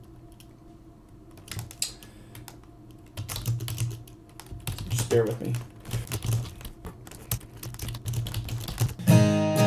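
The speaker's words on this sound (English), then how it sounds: "I'm going to be typing up some ideas." Steady clatter of typing on a computer keyboard while jotting songwriting ideas into a notes app, the keystrokes quickening into bursts near the end, with someone briefly speaking over them.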